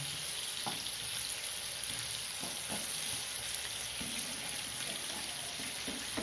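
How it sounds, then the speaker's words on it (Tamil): Brinjal shallow frying in oil in a covered pan over low flame, a dense, even hiss and fine crackle that holds steady, with faint soft taps now and then, close by and with no voices. "மூடி வச்சா லேசாக அந்த ஸ்டீம் வரும் இல்லையா அதுலேயும் இந்த எண்ணெயிலையுமா நல்லா ஃப்ரை ஆகும்"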